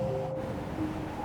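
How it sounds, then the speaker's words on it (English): A strong blizzard wind whooshes and roars in a brief, steady gust, with a faint tonal background under it. "the wind is getting stronger"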